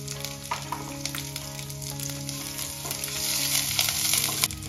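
Onions sizzle steadily in a hot pan, a continuous crackling hiss that swells slightly louder toward the end, with no voices.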